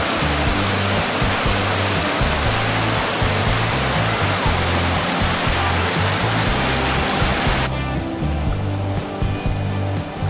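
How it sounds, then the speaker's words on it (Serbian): The Vrelo river drops over a 10-metre waterfall into the Drina below restaurant terraces, a loud, constant roar of rushing water that keeps going without a break, with no talking. "reka Vrelo se u Drinu uliva vodopadom"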